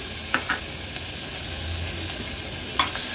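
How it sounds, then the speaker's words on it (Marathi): A small chopped onion drops into hot oil already holding curry leaves, cumin and mustard seeds, giving a steady close sizzle and frying hiss with a few faint clinks of stirring. "अगदी एक छोटासाच कांदा घेतलाय चिरून, तो ऍड करूया"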